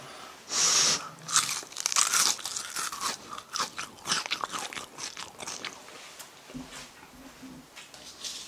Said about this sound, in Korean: 제가 이렇게 튀김을 먹어보고 식감을 비교해봤는데요